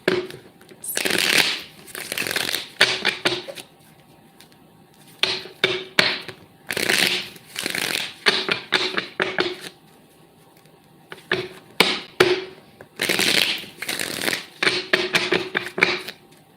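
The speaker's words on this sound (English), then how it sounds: "I'm going to shuffle until Spirit gives me the green light to begin." Tarot cards are shuffled repeatedly in close, crisp riffling bursts a second or two long, separated by short quiet gaps, with no voice over them.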